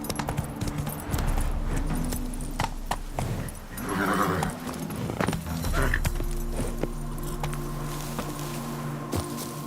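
Roach, Geralt's horse in The Witcher 3, gallops with a steady clip-clop of hooves on the ground. The rhythmic beats stay close and fairly loud, with some tack jingling and faint background ambience.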